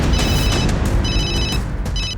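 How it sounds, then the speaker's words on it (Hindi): A telephone rings with an incoming call, three bright electronic ringing bursts in regular rhythm over a steady background, loud and close with no talking. "फोन पर एक कॉल आ रही है"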